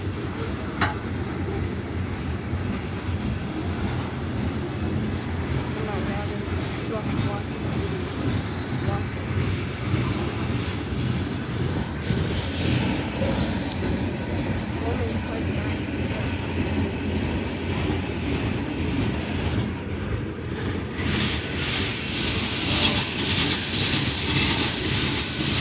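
Union Pacific locomotive 8918 leads a southbound ETRX coal train past at close range, a loud steady rumble of wagons and wheels with clicking rail joints and occasional squeal, sustained throughout; a voice talks faintly over it.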